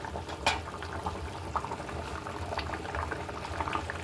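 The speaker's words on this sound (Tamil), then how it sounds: "குழம்பு சூப்பராக கொதிக்குதுப்பா." Kuzhambu, a tamarind curry, bubbling steadily in a pot, with a dense low simmer and scattered pops and gurgles rising over it throughout, close up with no talk.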